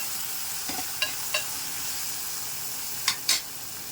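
Tomatoes sizzle softly in a pan while cooking for a drumstick leaf sambar, with a steady low frying hiss and a few brief scraping stirs of a utensil against the pan.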